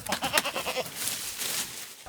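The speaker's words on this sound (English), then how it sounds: "a goat" A goat bleats in a short series of wavering cries early on, followed by a fainter breathy noise, moderately close.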